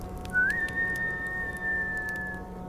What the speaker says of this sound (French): Il sort et siffle.